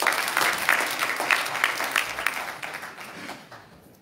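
A church congregation claps enthusiastically in praise, a dense round of applause that holds steady and then gradually fades out.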